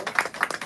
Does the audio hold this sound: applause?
yes